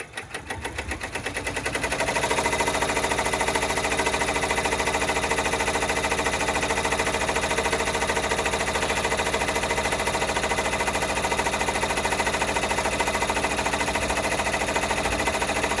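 A multi-needle embroidery machine stitches a tack-down line on a fabric clutch. It spins up over about two seconds into a loud, fast, steady mechanical chatter that runs unbroken throughout.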